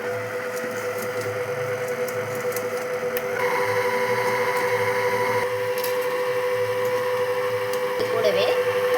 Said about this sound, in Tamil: முட்டையும் ஜீனி நல்லா மெல்ட் ஆகிற மாதிரி நம்ம இதில் பீட் பண்ணிக்கலாம்.